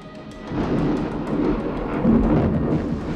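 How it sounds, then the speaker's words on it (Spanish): A thunderstorm rumbles over Tenochtitlan, with deep rolling thunder that builds in waves and swells loudest near the end over a soft wash of rain, with no voices. "la tormenta estaba afuera y llovía en Tenochtitlan después de muchas horas, con rayos y con truenos"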